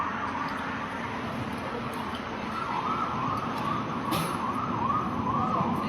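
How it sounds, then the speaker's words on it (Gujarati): Two ambulance sirens wail past on a city street in Surat, their rising and falling tones sweeping steadily over a constant roar of traffic, moderately near and loud throughout. "જો 2 એમ્બ્યુલન્સ ગઈ."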